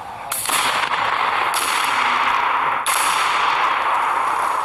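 Loud booming blasts from exploding targets at target practice echo out in quick succession, each explosion rolling into a long, roaring reverberation outdoors.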